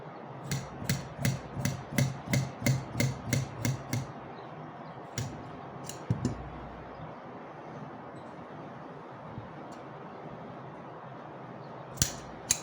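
Sharp repeated snips of tailor's scissors cutting fabric for an Iraqi dishdasha, a rapid run of about a dozen crisp cuts followed by quieter scattered snips and handling, close and without talk.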